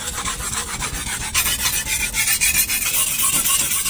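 A cleaver-style knife blade is drawn across a 6000 grit whetstone in steady, rhythmic rasping strokes, close and fairly loud with no talking.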